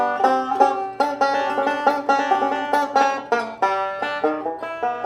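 Banjo three-finger picking plays a tune: a quick, bright stream of plucked notes in a steady driving roll, close and clear, with no talking.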